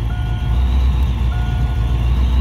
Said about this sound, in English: Let me turn the fans on.